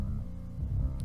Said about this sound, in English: And now I added guitar stomp to it